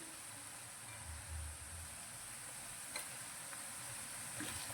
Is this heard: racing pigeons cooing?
no